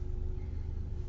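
A steady low Cupra engine rumble with a constant hum, continuous and fairly quiet, as if heard from inside the car.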